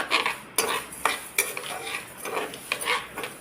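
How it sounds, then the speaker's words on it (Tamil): Mustard seeds and fenugreek dry roasting in a pan for a homemade masala, with close scraping and clinking of a metal spoon stirring against the pan in irregular strokes. "ஐம்பது கிராம் கடுகு ஐம்பது கிராம் வெந்தயம் சரிங்களா நல்லா பொன்னிறமாக வறுத்து எடுத்துக்கலாம்"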